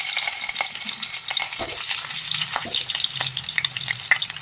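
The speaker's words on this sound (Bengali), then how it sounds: "এবার আমি আলুগুলোকে ভাজতে দিয়ে দেবো।" Potatoes fry in hot mustard oil inside an open pressure cooker, a steady close sizzling crackle broken by scraping stirs and small pops throughout.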